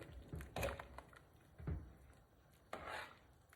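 A pot of creamy Cajun red beans stirred by hand, a few quiet, separate scraping and knocking strokes of a spoon against the pot, faint and close.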